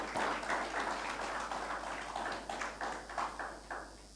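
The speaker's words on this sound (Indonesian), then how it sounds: "Sekali lagi tepuk tangan." An audience applauds at a Christmas celebration in Biak, Papua, a broad, fairly faint wash of clapping that swells and then thins into scattered claps.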